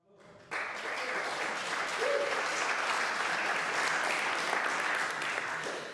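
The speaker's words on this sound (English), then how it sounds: "Thanks for the applause" Conference hall applause at an interparliamentary plenary assembly, a full audience clapping that starts abruptly after a brief lead-in and holds steady and dense, fairly distant, with faint voices underneath.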